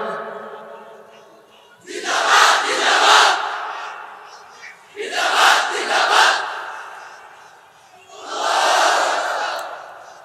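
A sermon crowd chants a short slogan in unison three times, each loud collective shout rising and falling with a pause between, without music.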